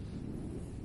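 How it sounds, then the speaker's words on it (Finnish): Cold outdoor wind gusting straight into the microphone, a brief steady low rumble and buffeting with no other sounds over it. "ja tuli tuuli vielä"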